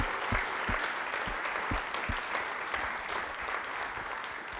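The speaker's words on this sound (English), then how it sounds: "Big round of applause for all of them." Audience at a high school pageant applauds the contestants, a dense, steady clapping that holds at moderate loudness for the whole stretch with a few louder individual claps standing out.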